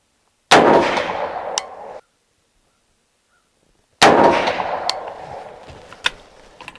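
Two loud, sharp rifle shots from a Henry 30-30 at an outdoor shooting range, spaced a few seconds apart, each cracking close by and trailing off into a long rolling echo.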